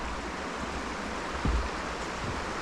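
Flowing water of the River Irthing near Gilsland Spa, heard as a steady broadband rush close by with no voices, and one brief low thump about halfway through.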